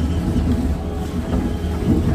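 Moving train just past Ballygunge station in Kolkata, its steady low rumble and rolling wheel noise heard from inside the carriage, loud and continuous with no voices.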